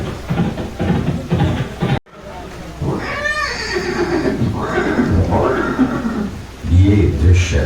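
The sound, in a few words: horse neighing, the horse Chetak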